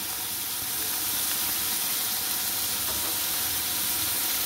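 Sliced onions sizzle in hot oil with a little salt, frying toward reddish-brown in a Bengali kitchen; a steady, bright hiss carries on without a break throughout, with no voice over it.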